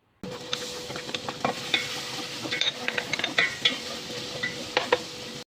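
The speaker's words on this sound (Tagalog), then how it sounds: "Nagisa lang pala ako ng bawang at saka yung luya." Garlic and ginger sauté in a pan for Filipino pares, giving a steady close sizzle broken by frequent utensil scrapes and light clinks against the pan, with no talk.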